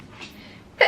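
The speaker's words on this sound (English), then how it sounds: "Pardon my sneezing." One short allergy sneeze bursts out near the end, sharp and fairly loud after a quiet, breathy lead-in.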